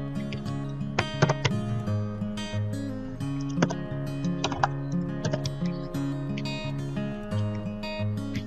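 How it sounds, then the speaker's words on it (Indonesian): Steady typing on a laptop computer keyboard, close and clear, with irregular bursts of key clicks over a low background hum. "kita ketikkan"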